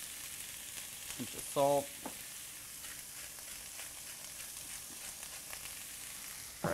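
Onions and zucchini frying in a saute pan give a faint, steady sizzle throughout, broken by a brief spoken remark and a short clatter near the start.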